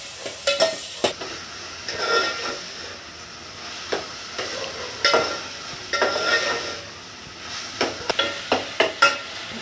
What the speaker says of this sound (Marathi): आता हे आपल्याला छान परतून घ्यायचं आहे दोन ते तीन मिनटं